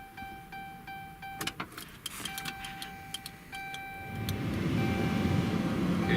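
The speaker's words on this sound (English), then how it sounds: "see what's going on, if these motors are turning" Small electric air flow vent motors in a Dodge Ram dashboard turning, heard as faint whirring with steady tonal hums and scattered light clicks and ticks, then a louder broadband rush of moving air toward the end; no talking.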